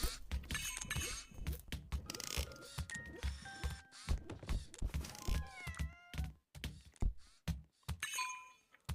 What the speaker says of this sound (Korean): 고양이가 있네요.